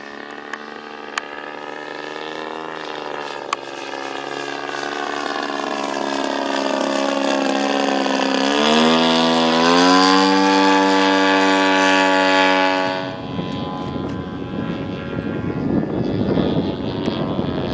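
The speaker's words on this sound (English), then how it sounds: "I'm just going to do a low flyby right now." A Carbon Cub radio-controlled model plane makes a low pass, its small engine whining steadily and rising in pitch as it approaches, peaking loudly close by, then dropping away abruptly into a rougher, fading buzz.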